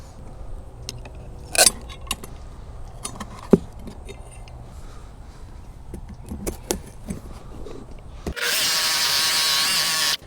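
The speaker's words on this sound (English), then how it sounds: "cutting as deep as I can with the hole saw" Scattered clinks and light handling knocks give way to a hole saw on a power drill biting loudly into plywood for a cat shelter, a steady close whine with rough cutting grind in the final two seconds.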